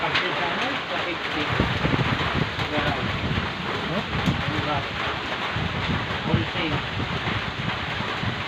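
Heavy rain and gusting wind sweep over a farm field, a dense steady hiss with rumbling buffeting against the microphone, continuous and loud with voices faintly audible underneath.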